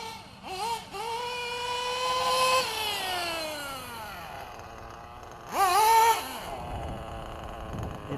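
Engine on a single-stage idle, heard as a revving whine that rises and falls in pitch, swelling twice over a steady running hum, close.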